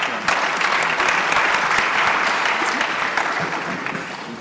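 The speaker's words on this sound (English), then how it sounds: "Another round of applause for our panelists and moderators for the session" Conference audience at a health systems event in Africa claps steadily for several seconds, a dense, close round of applause that holds even before tapering slightly.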